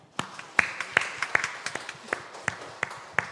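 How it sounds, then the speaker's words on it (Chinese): A church congregation at a Sunday worship service clapping hands for God, a series of sharp, fairly even claps in a loose rhythm, close and clear. "上帝拍手。"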